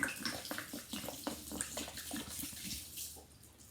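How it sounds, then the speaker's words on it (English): Disinfectant mixture poured from bottles into a bucket, a steady close splashing and gurgling of liquid that runs continuously and tapers slightly toward the end. "fill them up to your mixture, and pour them into your bucket"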